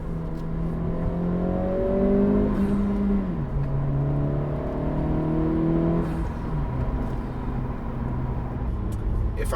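Engine and intake note of an Integra DE4 or Civic Si platform car fitted with a PRL Cobra intake, rising and falling through rev sweeps with a steady drone, heard close from inside the cabin.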